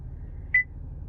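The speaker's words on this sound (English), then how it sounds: "hold the select button in until it beeps and goes to 100" One short, clean electronic beep from a 2017 Cadillac XT5 dashboard reset sounds once over a low, steady hum from its 3.6 engine.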